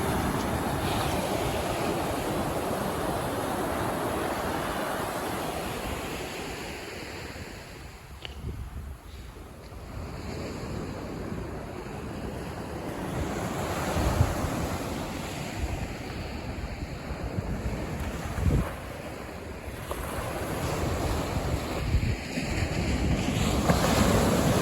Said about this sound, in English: this is the sound of the waves.